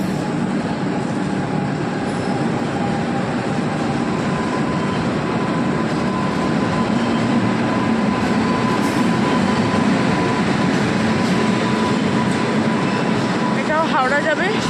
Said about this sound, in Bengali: এদিকে দেখো সরাইঘাট ঢুকছে।